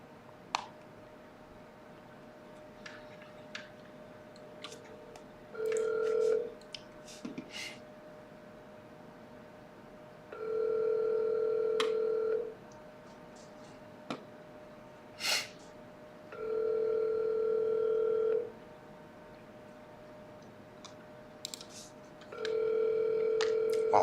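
An outgoing telephone call rings back in four evenly spaced, steady two-second tones, with faint clicks and small noises between rings and no one talking.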